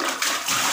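Water drains and gushes out of a container in a homemade automatic faucet rig built from scrap parts, a steady close rushing splash that lasts throughout.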